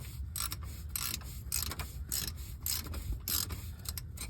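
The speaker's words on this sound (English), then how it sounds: "You place it up onto the oil filter, pop it on, and then just loosen it." Oil filter wrench loosening a car's oil filter during an oil change, giving a run of close mechanical clicks and creaks that repeat in short bursts of ratcheting.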